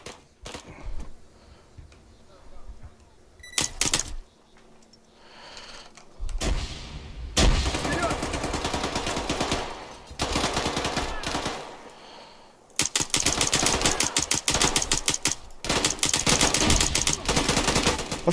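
Loud bursts of automatic rifle and machine-gun fire from urban fighting in Arma 3 come in several long sustained strings of rapid shots, separated by quieter gaps with faint voices.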